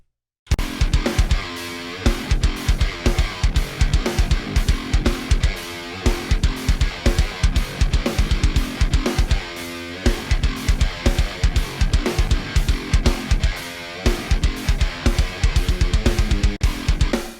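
A programmed MIDI kick drum pattern sounding in a full drum groove, steady and loud with rapid repeated kick hits and bright cymbals running continuously without talk.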